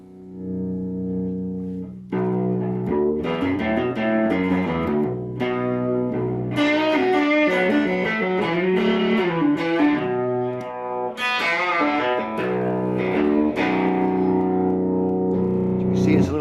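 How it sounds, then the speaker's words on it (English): A deep, throaty baritone guitar, tuned lower than a standard guitar, plays chords and riffs with a distorted, effects-laden tone, sounding full and sustained after a brief opening note. "it's a baritone guitar. By that I mean it's tuned down deeper."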